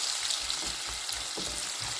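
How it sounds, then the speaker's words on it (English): Onions fry in hot oil in a pot, a soft hissing sizzle with faint low stirring sounds, short and fairly quiet. "The first thing I will be adding is onions. I will be stirring it for a few minutes before I add my tomatoes on it."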